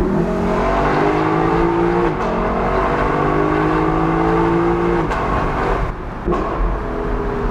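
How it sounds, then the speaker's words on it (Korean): A Lexus LC500 V8 coupe drives through a covered roadway open at the sides, its loud engine droning and echoing with rising and falling revs and a brief lift-off near the end. "이런 공간에서는 또 이 차의 소리가 어떤 메아리를 치면서 들릴지"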